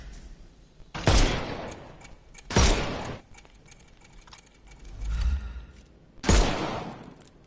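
Gunfire in the video game Sherlock Holmes: Chapter One: three sharp, loud shots spaced a second or more apart, with a duller thud between the second and third, all in a quiet scene with no voices.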